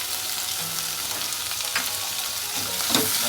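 Chopped tomatoes and salt frying in a pan for a kadappa, a steady close hiss and sizzle with occasional light stirring clinks, with no talk.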